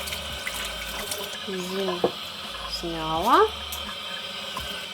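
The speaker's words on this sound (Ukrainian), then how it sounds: "Під проточною водою просто змиваєте. Змиваєте це холодною водою." Running cold tap water rinses pieces of pork, chicken and veal being prepared for homemade basturma, a steady kitchen faucet flow with a short spoken word.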